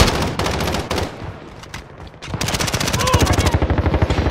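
Loud video game gunfire in a multiplayer shooter, with rapid automatic bursts that pause briefly and then resume as a long, steady rattling stream close up, while players talk over it.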